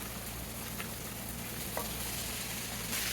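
Frozen mixed vegetables being stirred into ground beef frying in a pan, a continuous close sizzle with occasional scrapes of the spoon and no talking.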